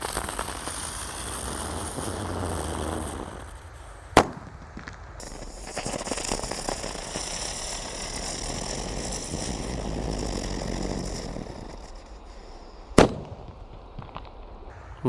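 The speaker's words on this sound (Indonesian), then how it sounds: "Lanjut di sini ada mercon teratai. Ini bisa mutar dan ada tornya teman-teman." A spinning lotus firecracker (mercon teratai) goes off outdoors: a sharp bang, then a long, loud hissing whirl as it spins and sprays, ending with another crisp bang.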